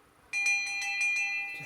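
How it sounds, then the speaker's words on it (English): A brass Hindu sacred cowbell with a cow figure on top and a bell-brass lower section is struck once, giving a bright, sustained metallic ring that hums and fades slowly, close and clear with no talk. "This is a Hindu sacred cowbell with the sacred cow on top, and it's got ordinary brass, but the bottom bit is bell brass,"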